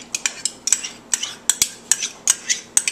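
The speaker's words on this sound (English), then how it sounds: "I mix it with the cream cheese" Sour cream and cream cheese being stirred together for a dip in a bowl: a steady series of close, sharp clinks and scrapes of a utensil against the dish, about three or four per second, with no voices.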